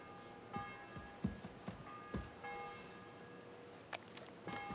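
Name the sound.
church bell ringing in video game Kingdom Come Deliverance II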